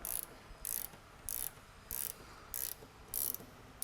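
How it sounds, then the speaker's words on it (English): A 13mm wrench or socket ratchets bolts tight on an S197 body-roll kit, six evenly spaced bursts of rapid clicking, close and crisp, with brief pauses between strokes. "grab your 13mm wrench or socket and start to get these things tightened down"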